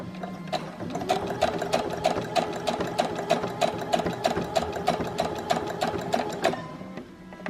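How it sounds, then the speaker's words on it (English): A domestic sewing machine stitches back and forth on a bra: a rapid, steady mechanical chatter of needle strokes running for several seconds, close and clear, then stopping abruptly. "just a couple of stitches"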